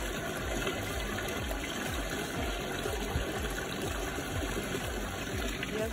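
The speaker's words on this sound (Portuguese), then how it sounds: "Tem água caindo de nascente." Spring water spilling into a small river in Japan, a steady, close rushing flow with an even wash of sound and no voices.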